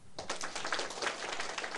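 A crowd of listeners at a political lecture breaks into brief, dense clapping, a short burst of scattered hand claps heard from a distance.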